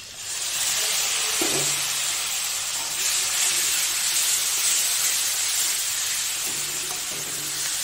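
Ginger, garlic, onion, tomato and green chili paste hits hot mustard oil with a loud, steady hiss that fills the whole stretch, with a few faint low knocks of the pan underneath.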